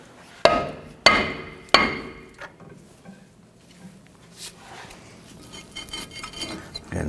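Metal striking sounds from work on a 1997-2006 Jeep Wrangler front brake, freeing the rotor from the hub assembly: three sharp, close hammer blows with ringing decay, then quieter scattered clinks and handling noise.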